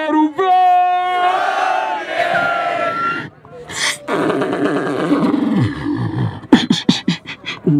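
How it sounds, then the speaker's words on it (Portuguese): Crowd at a Brazilian freestyle rap battle in Barueri, São Paulo, roaring and shouting loudly, with cheers swelling and a burst of rhythmic chanting near the end, mixed with a raised voice. "Barulho pra cima do Mises"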